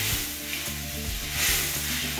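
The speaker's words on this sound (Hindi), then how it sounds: "गाइस देखिए क्या तड़का लगाया मम्मी ने" Spices for dal tempering crackle and sizzle loudly in hot oil, a dense continuous hiss with occasional stirring sounds and no voices.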